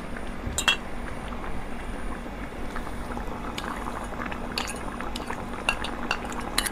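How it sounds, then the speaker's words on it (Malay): Asam pedas tempoyak with patin fish and cucumber bubbles in a pot, a steady close simmer broken by a few light clinks of a utensil against the pot. "Masukkan garam. Kacau sekejap."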